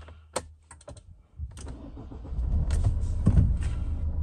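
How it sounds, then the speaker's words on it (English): A 2013 Nissan X-Trail Tekna diesel with automatic gearbox starting up: a few clicks and taps, then a brief starter crank and a low diesel rumble that settles into a steady idle, heard close by inside the vehicle. "Just going to start the car"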